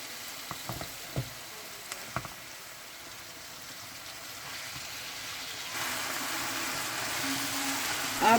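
Chicken pieces frying in a pan for a simple stir fry, a soft steady sizzle with a few utensil taps early on, the frying growing louder and denser toward the end.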